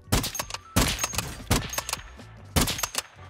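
Sniper rifle shots in Call of Duty: Warzone, four sharp loud reports spaced about a second apart, each with a brief ringing tail over faint game ambience.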